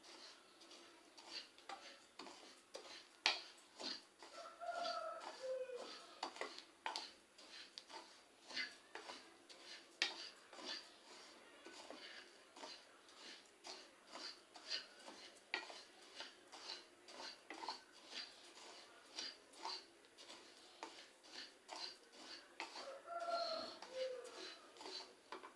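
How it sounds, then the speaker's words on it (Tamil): Raw rice dry-roasts in a pan for an Akkaravadisal sweet, with a quiet, rhythmic run of ladle scrapes and light metallic taps repeating steadily throughout, fairly close and soft. "அரிசியை நல்லா வறுத்துக்கணும்."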